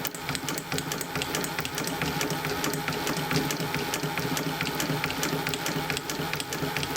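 A 114k103 chain-stitch sewing machine driven by a wooden drive wheel and servo motor runs steadily and close, its rapid needle clatter and rattling mechanism forming a continuous, even mechanical buzz throughout.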